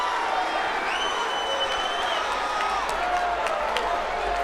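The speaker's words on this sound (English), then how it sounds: "She has a big cheering section here that have come down to watch her fight" Crowd noise and cheering at a women's professional boxing match, a dense, steady roar of spectators with scattered shouts, continuous and fairly loud throughout.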